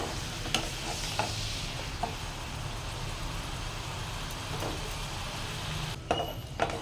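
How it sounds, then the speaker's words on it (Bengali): Spice paste with salt sizzles steadily as it is fried in a pan for a fish mustard curry, while a spoon scrapes through it now and then, close up, with a constant hiss underneath and no voices. "আমি এখানে এই মশলাটাকে দু মিনিটের মতন ভালোভাবে একটু কষিয়ে নিলাম"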